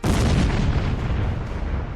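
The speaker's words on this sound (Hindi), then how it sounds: "और फिर कुछ सेकंड बाद ब्लास्ट।" An Iranian missile strike explodes in a loud, deep boom whose heavy rumble fills the space and slowly rolls off over a couple of seconds, with no voices.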